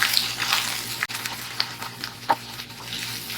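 Cut ginger, whole garlic and aromatics sautéing in a pan for a green chicken curry, giving a soft continuous sizzle with a few stirring scrapes and clinks.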